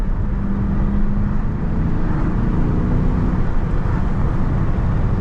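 A Dodge Charger Scat Pack with a 392 engine in manual drives along, its low engine drone steady and loud, blended with road and wind rumble throughout.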